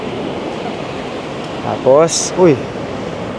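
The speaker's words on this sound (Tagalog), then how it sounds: "Pero ang lakas ng hangin." Strong wind roars steadily in a broad rushing wash on the north coast of Taiwan near Yehliu, open air by the sea, and a voice briefly calls out over it.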